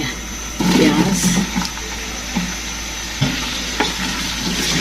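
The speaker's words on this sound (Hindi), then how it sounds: "प्याज को मैं थोड़ा ब्राउन करूँगी।" Onions browning in a pan for Punjabi-style rajma chawal, a steady close sizzle with stirring scrapes and a few light knocks, loud and continuous with no one talking.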